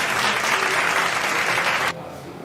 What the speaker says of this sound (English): Another clap for you.